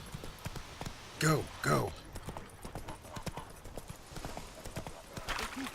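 Horse hooves clip-clopping in the video game Witcher 3, a steady rhythmic trot running under a couple of short shouted words from a player.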